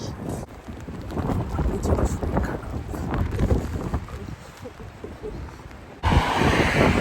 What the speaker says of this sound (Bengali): বাতাস বৃষ্টি